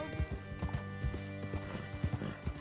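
Hooves of a walking horse clop in a steady uneven rhythm, close and fairly loud, in Red Dead Redemption 2 on PS5, with a few soft low rumbles under the footfalls.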